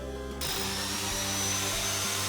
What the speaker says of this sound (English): The team uses the wet-dry vac to remove debris and concrete dust in and around the